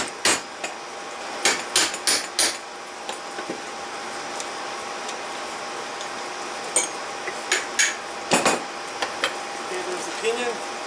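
A hammer strikes the front axle nut of a 1987 Suzuki Samurai during axle disassembly, sharp metallic blows arriving in small clusters of two to four, close and fairly loud, with quieter taps between and a steady hum underneath.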